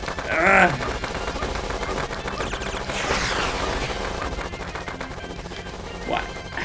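Rapid gunfire from a hectic shooting video game, with bursts of dense crackling shots and impacts running under the action, plus a couple of short vocal exclamations.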